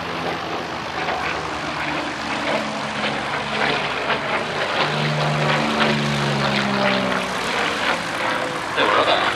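A Yak-3 warbird fighter with an Allison V-1710 engine drones steadily with a loud propeller roar, its tone shifting slightly as it passes at an air display at East Kirkby.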